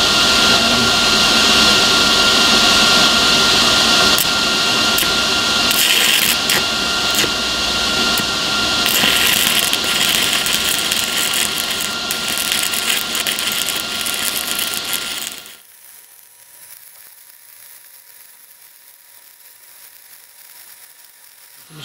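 Stick welding with a 6011 electrode on a Miller Multimatic multiprocess welder: a loud, steady crackling arc hiss runs close up for about fifteen seconds, then cuts out abruptly to quiet room noise.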